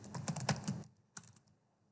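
Quick keystrokes on a computer keyboard clatter in a short close burst, then pause, then a few more taps, faint and alone.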